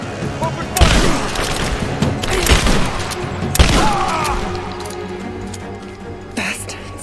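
Bursts of gunfire and heavy volleys crack through a Rise of the Tomb Raider firefight, with several loud peaks over steady background battle noise and voices shouting between shots.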